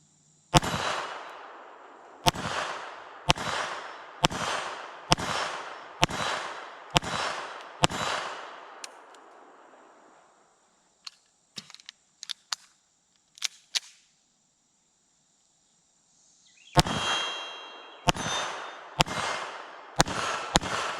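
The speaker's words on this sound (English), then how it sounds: "Take our first rounds and see where this is hitting for us." A Beretta 3032 Tomcat .32 ACP pistol fires PPU 71-grain full metal jacket rounds at steel targets about 7 yards away. Sharp, evenly spaced shots ring out, around eight in a row, then a pause with faint clinks, then another string of six.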